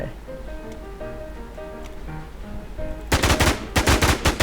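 Rapid bursts of gunfire from the video game Infestation The NewZ break in after about three seconds of music. Two loud, dense volleys follow in quick succession.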